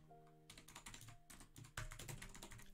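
Fast clacking keystrokes on a mechanical keyboard, quiet and close, in an uneven run of presses with faint tones lingering underneath.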